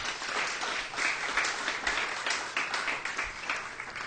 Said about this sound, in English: Would you give all of our nominees a nice round of applause